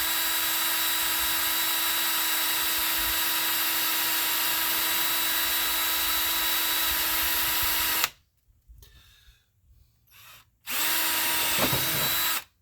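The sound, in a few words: power drill drilling a hole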